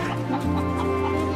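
Chickens cluck in Hogwarts Legacy, a short close burst of clucking over a steady background hum, with no talking.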